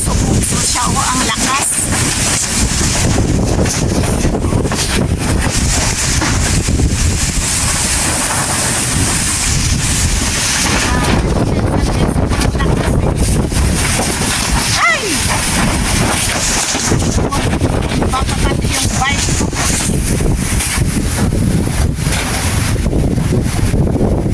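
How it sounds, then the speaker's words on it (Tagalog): Strong typhoon wind from Super Typhoon Leon battering Calayan Island, a loud, continuous roar with heavy buffeting on the microphone and gusts rising and falling throughout, with no pause. "grabe yung hangin guys."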